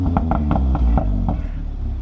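An Audi TTS engine revs loudly and close by, a deep rumbling note with a quick pulsing throb that holds steady for about two seconds.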